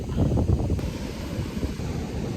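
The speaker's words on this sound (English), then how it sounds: "Okay, so we're at the beach right now." Ocean surf at a beach flying a red flag rumbles close by, with gusty wind buffeting the microphone over a short, rough stretch and no speech.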